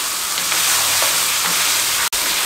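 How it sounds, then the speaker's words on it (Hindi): Mutton pieces being fried over a high flame, a loud, dense, continuous sizzle and hiss with faint stirring scrapes underneath, broken by a brief cutoff near the end. "इसमें शामिल कर देंगे और 6 से 7 मिनट अच्छे तरीके से इसके अंदर इसकी भुनाई करेंगे"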